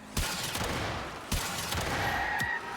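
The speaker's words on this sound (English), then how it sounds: "Shoot somebody in the body, charge the gun, unleash hell of fireballs." A grenade launcher in a video game fires charged fireball shots, heard as three sharp booming blasts spaced about a second apart, each followed by a rumbling tail over a steady background din.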